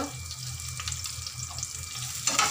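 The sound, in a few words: sautéing green chillies, garlic and fennel in a pan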